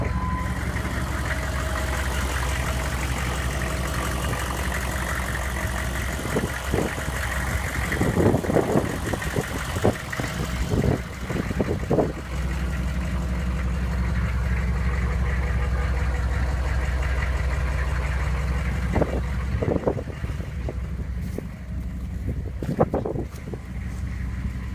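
Chevy 3500 plow truck engine idling with a low steady rumble, joined by intermittent knocks and clunks and some wind noise, no speech.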